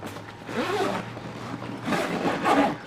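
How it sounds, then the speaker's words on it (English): The zipper of an SW-Motech EVO motorcycle rear bag is pulled open close by in a couple of quick rasping strokes, with a short pause between them. "There's a little zipper up here."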